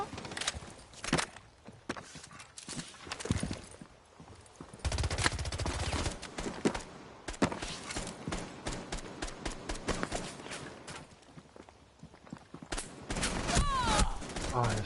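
Gunfire in a Rainbow Six match, with rapid bursts and single shots crackling amid footsteps and game noise, loud and continuous over a dense mix, with voices talking at times.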